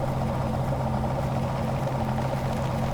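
A big, beastly tractor engine from Farming Simulator 17 runs at a steady, low idle-like rumble, continuous and fairly close, with no talk over it.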